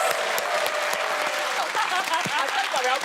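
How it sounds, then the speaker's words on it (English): Studio audience and comedy quiz panel applaud a game show's final scores, dense continuous clapping with some voices over it for the whole stretch. "Clapping yourself."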